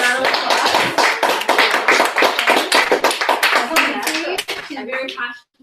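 Audience applause for a presenter at a mastermind presentation, close and loud dense clapping filling the stretch and thinning out near the end, with a brief voice under it.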